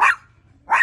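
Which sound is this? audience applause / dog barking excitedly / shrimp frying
dog barking excitedly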